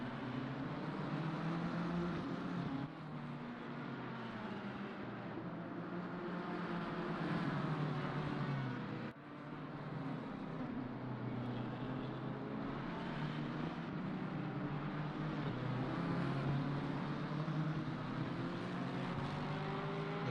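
BMW race cars battling at the Nurburgring in Assetto Corsa Competizione, with a steady, loud engine drone that rises and falls in pitch as the cars run close together, continuous throughout with no talk.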